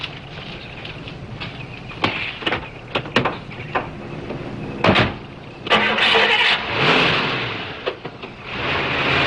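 A car engine cranks and catches, then runs with a steady mid-pitched hum, preceded by scattered clicks and knocks as the driver settles in; no talking.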